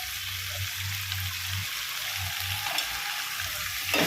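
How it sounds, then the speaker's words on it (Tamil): Vegetables sizzle steadily in a hot pan, a constant close crackling hiss with an occasional clink near the end. "இப்போ காய் நல்லா வதங்குது"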